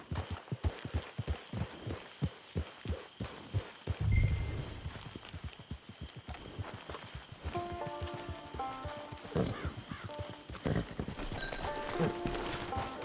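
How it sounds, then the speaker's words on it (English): Horse hooves clip-clop at a steady trotting rhythm in the video game Red Dead Redemption 2, close and distinct at first, then joined by a snort and softer hoofbeats under a swelling musical score. "Get your horse."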